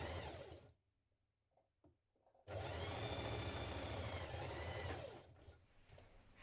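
A sewing machine stitches a blouse seam in two loud, steady runs, the first brief and the second longer, separated by a quiet pause.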